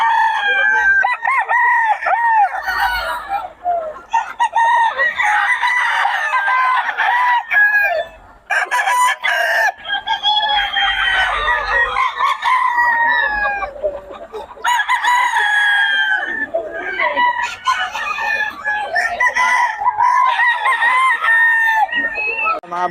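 Young roosters (stags) at a poultry sale in Bocaue crow repeatedly in overlapping, loud calls close by, with clucking between the crows and no talk.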